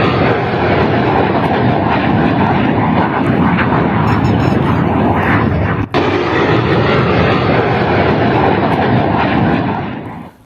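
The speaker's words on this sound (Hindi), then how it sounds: "पाकिस्तान का लड़ाकू विमान आप देख रहे हैं, ये जो पेड़ के ऊपर आपको जाता नजर आ रहा है, ये पाकिस्तानी फाइटर है।" A Pakistani fighter jet passes over trees, a loud, continuous roaring jet engine filling the whole stretch and easing off only at the very end.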